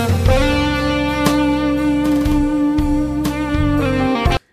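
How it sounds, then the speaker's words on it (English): Music downsampled to 8 bits so it sounds like an old 1980s gaming console, a steady loud stretch of harmonic tones with gritty static and periodic percussive hits, cutting off abruptly at the end. "I can downsample this to 8 bits, for example, so you can hear what it would sound like if it was coming through an old gaming console from the 80s"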